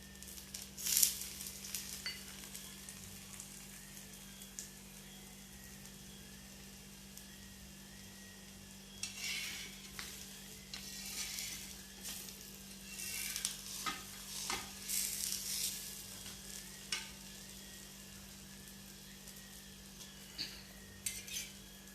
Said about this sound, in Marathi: आणि ह्याला बाजूला असं तूप सोडायचं एकदम खायला असा खमंग लागतो